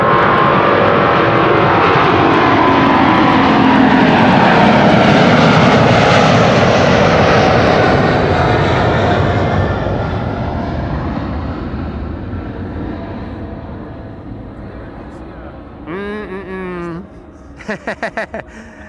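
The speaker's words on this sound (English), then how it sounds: "And this is KLM Flight 735 to Willemstad Curaçao." A KLM wide-body jet roars loudly on takeoff from Amsterdam Schiphol bound for Curaçao, the broad engine rumble swelling and then slowly fading into the distance, with brief bursts of other sound near the end.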